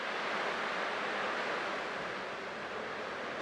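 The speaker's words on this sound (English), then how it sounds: "I can still clearly hear the sound of the waves." Ocean waves in the video game Honkai Star Rail wash in a steady, broad hiss of surf, soft and continuous with no voices.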